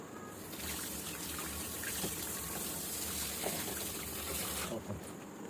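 Tap water runs steadily while a water filter's PP sediment cartridge is rinsed, a continuous close gushing trickle that stops abruptly near the end.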